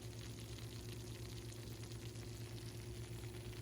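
Tuna casserole fresh from the oven, topped with browned chips and melted cheese, bubbling hot with a soft, steady sizzle and low continuous bubbling, close and quiet throughout with no talk.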